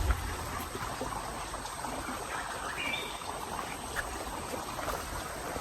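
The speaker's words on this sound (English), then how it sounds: "Can you hear the sound of the water?" Steady flowing water from a stream at Ikogosi Warm Springs resort, a continuous broadband rush with faint high chirps now and then, fairly close and unbroken.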